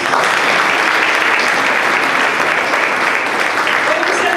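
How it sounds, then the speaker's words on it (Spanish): A congregation applauds for Jesus right after a prayer, with dense, loud and sustained clapping that fills the whole space from start to finish. "Un aplauso al Señor Jesús."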